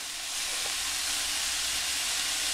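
Pork bites searing in a hot pan for steak-style pork give a continuous loud hiss and sizzle, close and steady without pause.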